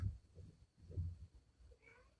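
A domestic cat meows a few times indoors, fairly faint, with short soft calls spread across the moment and no talking.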